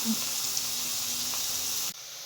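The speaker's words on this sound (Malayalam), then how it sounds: "ഇനി ഇത് നന്നായിട്ട് ഒന്ന് മൂപ്പിച്ചെടുക്കണം." Chopped onions with salt sauté in a hot pan for a squid roast, giving a steady, close frying sizzle and hiss that runs evenly throughout before cutting off abruptly near the end.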